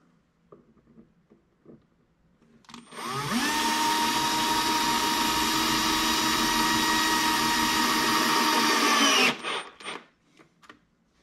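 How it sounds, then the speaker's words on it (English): A power driver whines loudly and close for about six seconds as it forces a screw into melamine board, its pitch rising then holding steady before it stops, with faint handling clicks before and after. "driving these screws into this melamine is pretty hard."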